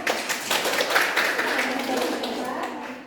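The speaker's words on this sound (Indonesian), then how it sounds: "untuk kelompok kinestetik kita beri tepuk tangan" Classmates clap for a student group during a primary-school microteaching lesson, a loose, moderate burst of hand claps that peaks early and then tapers off, with a voice over it.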